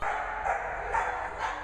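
Puppies at a training lodge yip and bark in short repeated bursts, three or four quick calls over a continuous hiss of background noise.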